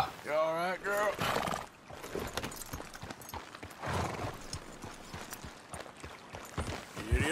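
A horse in Red Dead Redemption II whinnies loudly up close, then hooves clip-clop at a steady gait with a few scattered snorts and thuds, no voices over them.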